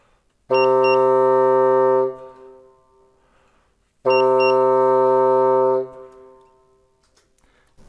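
A breath controller module gives a warning beep twice: two loud, identical electronic tones, each held about a second and a half, separated by a few seconds of near silence.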